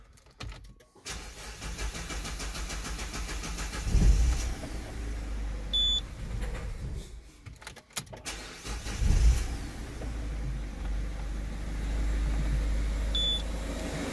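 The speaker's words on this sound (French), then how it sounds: "On va laisser tourner le moteur quelques minutes." Diesel idle of a Citroën C4 Picasso 1.6 HDi after a service, a steady low engine drone with a couple of louder surges midway and short electronic beeps, nearby and without talk.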